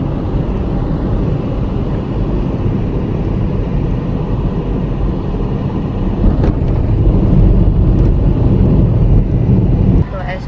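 Busy street traffic in Jabalpur crowded with motorbikes, a loud continuous rumble of engines close by, with voices faintly under the din.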